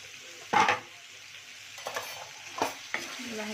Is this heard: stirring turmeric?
yes